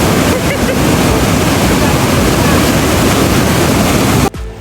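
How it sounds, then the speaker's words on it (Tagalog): A strong current in a hot spring river at Baggao, Cagayan, gives a loud, continuous rushing roar that fills the clip and then cuts off abruptly near the end. "masyadong malakas yung current ng tubig"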